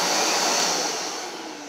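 An orange Kenmore bagged canister vacuum cleaner runs with a loud, steady whine that gradually dips slightly in level toward the end, heard alone without speech.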